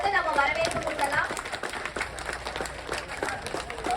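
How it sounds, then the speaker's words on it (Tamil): A packed hall audience gives loud, sustained applause at a Tamil cinema gathering, dense clapping that holds steady throughout with voices mixed in. "அரங்கம் நிறைந்த ஒரு பலத்த கைத்தட்டல் கொடுத்து நம்ம வரவேற்பு கொடுக்கலாம்."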